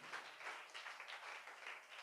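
Applause from a church congregation praising God, a faint, dense patter of hands clapping steadily for about two seconds.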